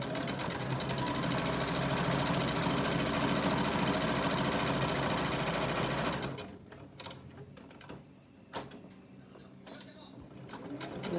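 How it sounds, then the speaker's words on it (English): Sewing machine stitching over the pleats of a fabric face mask, a loud, steady, close whir for about six seconds before stopping, followed by quieter handling clicks and rustles. "I try not to sew right on top of it."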